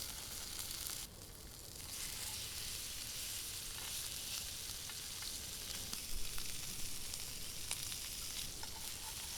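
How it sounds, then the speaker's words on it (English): Butter and steaks sear in a hot cast iron pan over high heat, a steady loud sizzle running throughout with small crackles and pops, and a brief dip near the start. "we add some butter, followed by the steaks. We cook them medium rare."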